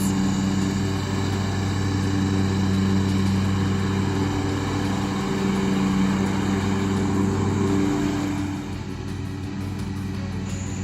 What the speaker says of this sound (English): This is a zero-turn lawnmower.